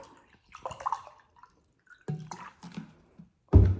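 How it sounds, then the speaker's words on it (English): Water is poured into a cup in short splashing bursts, with separate trickles and drips between pauses and a louder clunk at the end. "So I'm going to go ahead and just pour some water in my cup."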